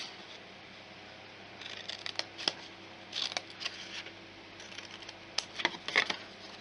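Scissors snip paper being trimmed for a large square Easter egg box, a few quiet clusters of short crisp cuts spaced across the moment in a still room.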